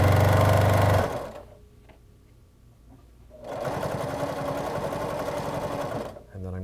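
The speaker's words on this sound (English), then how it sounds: "So I'm going to stitch through until I get the ends a little bit closer together." A sewing machine stitches bias binding in two loud runs of rapid, steady whirring, broken by a quieter pause of a couple of seconds in between.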